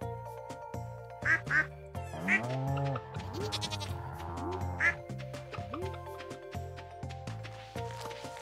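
Ducks in the Stardew Valley farming game let out repeated bright, nasal quacks over light background game music, several calls spread across the stretch at moderate loudness.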